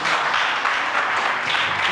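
A church congregation applauds a man named David, a dense, loud wash of many hands clapping together for two seconds without a break.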